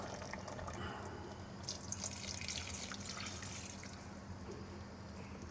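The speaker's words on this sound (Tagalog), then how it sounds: "saka tayo magdadagdag ng tubig. Ito yung pinuhugasan ng bigas" Rice-washing water pours into a pot of tinola with a soft, steady splashing and trickling, close by and continuous.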